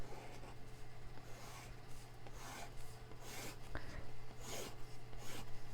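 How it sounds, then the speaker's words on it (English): Pen drawing lines across a journal page, repeated scratchy rubbing strokes in an uneven rhythm, close and faint over a low steady hum, with no talking. "We could put some lines on here"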